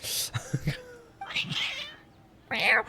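Several agitated meows from cats in the Genshin Impact video game, loud and close in short bursts at the start, middle and end, with brief pauses between.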